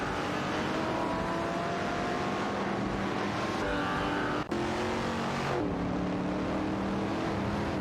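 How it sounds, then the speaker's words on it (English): A race car in an AI racing video game roars loudly as it accelerates and pulls away, its engine note climbing and shifting through gears, with a brief abrupt cut partway through and no talking over it. "Automobile dashing away."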